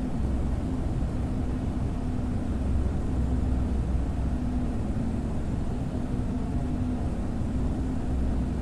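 A steady, droning engine hum of a PA-34 Seneca in the FSX flight simulator with the throttle cut, a continuous broadband rumble with an even tone and no breaks.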